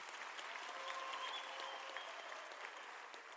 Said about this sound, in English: Can I request a round of applause?